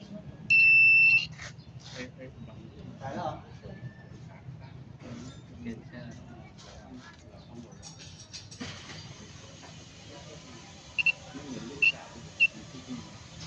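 A multimeter gives several short, high electronic beeps while testing a fuse from a Honda Spacy scooter, one longer tone early then three brief chirps near the end, over background chatter and room noise.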